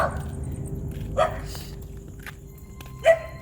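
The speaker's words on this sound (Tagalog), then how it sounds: "Pag ang aso na ganyan, nagtatahulan." A dog barks at night in a cemetery, two short, distant yelps about two seconds apart over a quiet background hum, with no voices.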